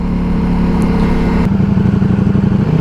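Ducati Multistrada motorcycle engine switched into race mode, a loud, close, steady mid-pitched drone that turns rougher and more pulsing about halfway through, with a throbbing rhythmic beat and no talking.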